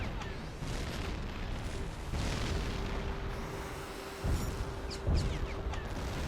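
A target ship exploding in Tom Clancy's H.A.W.X. 2, with deep booms and bursts over a constant roar of jet and battle noise, moderately loud and cut by a couple of sharper blasts near the end.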